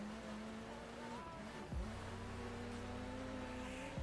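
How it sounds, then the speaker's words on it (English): A video game car engine in a Dirt game drones steadily with shifting pitch and a brief lurch partway through, the car struggling along on a flat tire. "I think I've got a flat, it sounds like it."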